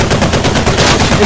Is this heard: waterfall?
no